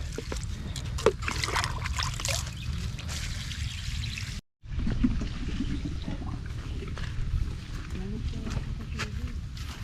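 Irrigation water flowing into a rice field, a continuous pouring and trickling rush close by, with someone talking over it and a brief dropout midway.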